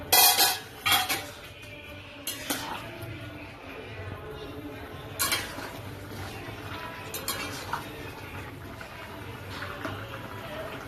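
In a kitchen, a pot of ghati kochu and prawn curry gets a metal lid set on it with sharp clinks and clatters of cookware, followed by quieter scraping and light knocks.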